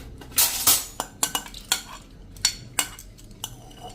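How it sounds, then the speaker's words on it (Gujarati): Soaked dal tipped into a pressure cooker, heard as a quiet run of clinks, scrapes and spoon knocks against the metal pot, several sharp taps spaced through the moment, close and without talk. "હવે આ દાળને આપણે કુકરમાં નાખી દેશું"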